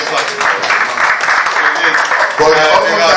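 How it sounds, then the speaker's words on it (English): Audience applause at an aviation safety round-table business breakfast, a steady wash of clapping from a room of people that swells louder near the end. "please give me a round of applause"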